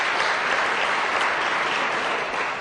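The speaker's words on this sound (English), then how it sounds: "I'm glad that you applaud" An audience at a debate on religion breaks into sustained, dense applause, many hands clapping evenly from start to finish with no voices on top.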